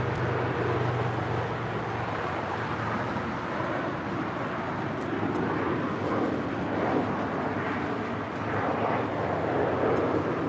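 An airliner going around at LAX roars at a distance, a steady broad jet rumble holding over the full stretch with faint background voices.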